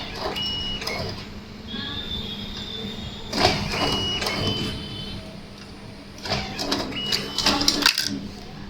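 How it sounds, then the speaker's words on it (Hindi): An Evolis Primacy 2 card printer feeds and prints a card, giving intermittent mechanical whirs, clicks and short motor bursts with quieter pauses between them, close up and moderately loud. "वो कार्ड को डिटेक्ट करेगा और प्रिंटिंग का प्रोसेस स्टार्ट कर देगा।"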